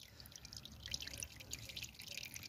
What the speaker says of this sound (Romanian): abia să curgă din țavă